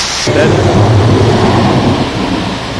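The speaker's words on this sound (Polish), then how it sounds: "Taki deszcz." Heavy rain pours down loudly with a deep rumble of thunder rolling underneath, steady and close.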